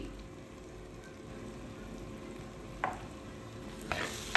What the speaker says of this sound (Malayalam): ഈ മൂന്ന് പൊടികളും നല്ലോണം ഒന്ന് വയറ്റി കൊടുക്കാം